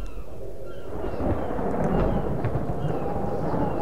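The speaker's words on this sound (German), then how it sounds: "Und wird gewittert wieder." Thunderstorm in the video game Submerged, a low continuous rumble of thunder with rain-like hiss, steady and moderately loud with no voices.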